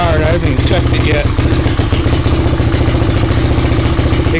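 A 350X three-wheeler engine with a holed exhaust runs loud and close, a rapid uneven putter with raspy blatting pulses that stays steady throughout.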